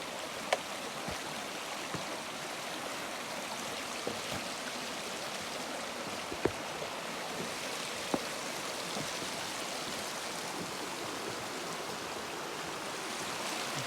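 Slaughter Creek along an Appalachian Trail loop, running high after rain, gives a continuous broad rushing of water with a few faint knocks, close and steady, with no talk.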